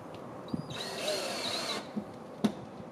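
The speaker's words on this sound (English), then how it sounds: "we're going to put the fasteners in using a star pattern" A power drill drives fasteners into rafterless solar racking in a single close, whining burst lasting about a second, with a few light clicks and knocks of handling before and after.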